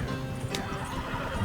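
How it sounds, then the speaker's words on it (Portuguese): Wagon horses in Red Dead Redemption II give a short whinny over rolling clip-clop and wagon rumble, close and fairly quiet. "Ó, os cavalos vão reclamando"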